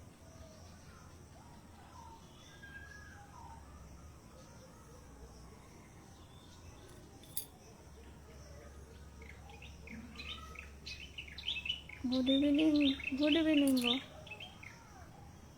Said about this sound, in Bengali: পাখিটা কি সুন্দর ডাকছে দেখো।